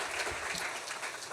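Audience applause at a Southern Nevada business event, a brief faint patter of clapping from a crowd.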